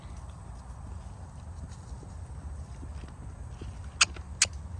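A mustang trots on soft ground, its hooves giving a muffled, rhythmic clip-clop close by against a low rumbling background, with two sharp clicks near the end.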